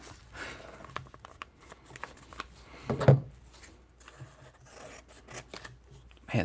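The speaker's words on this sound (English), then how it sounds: "these are really nice scissors" Scissors snipping through the plastic packaging of Pokémon trading cards at a table, a few crisp cutting strokes with one sharper snip near the middle, fairly close and moderately quiet amid light rustling.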